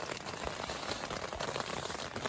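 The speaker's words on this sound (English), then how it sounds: "It's raining." Dense patter of rain drumming on a taut tent surface close by in a forest on Boulder Mountain, Utah, steady and continuous with no voices.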